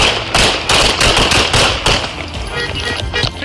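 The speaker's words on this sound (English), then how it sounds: "54, shots fired!" A fast string of loud, close gunshots in a police confrontation in a Mesquite, Texas apartment parking lot, about eight sharp cracks in quick succession, then shouting voices.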